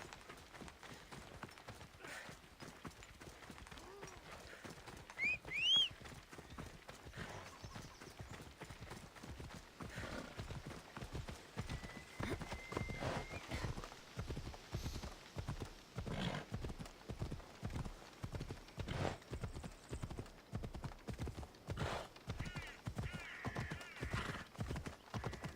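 A horse gallops along a road in the video game Assassin's Creed Odyssey, hooves clip-clopping in a steady, quickening rhythm that grows louder, with a brief whinny early on and no talking.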